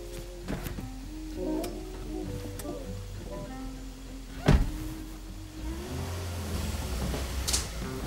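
A car engine rumbles low and steady in a TV drama scene, growing slightly louder near the end as the car starts to pull away, with background music playing over it.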